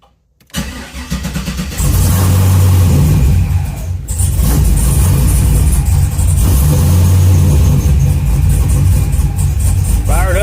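A car engine cranks and catches after a brief quiet start, then idles loudly up close and is revved in a couple of swelling surges before settling, the car suspected of lacking third gear.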